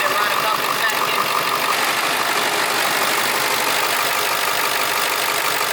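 A Nissan Silvia engine running steadily in a stripped-down engine bay, a continuous close mechanical drone with even texture, loud and unbroken throughout.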